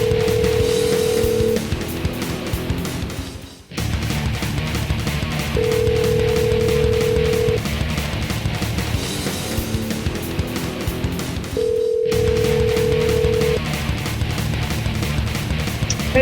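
A telephone line rings repeatedly for a live radio call-in, sounding as steady, evenly spaced tones over a constant background hum, without any voices.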